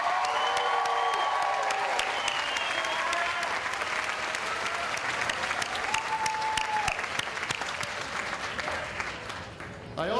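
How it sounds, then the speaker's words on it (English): Crowd at a 2010 USC undergraduate commencement ceremony applauding students' families, a loud sustained roar of clapping with cheers and whistles over it, tapering slightly near the end. "Let's give a loud round of applause for all of our students' families"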